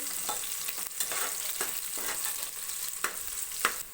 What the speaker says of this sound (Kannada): ಈರುಳ್ಳಿ ಎಲ್ಲ ಒಗ್ಗರಣೆಯಲ್ಲಿ ಚೆನ್ನಾಗಿ ಬೇಯೋವರೆಗೂ ಫ್ರೈ ಮಾಡ್ಕೋಬೇಕು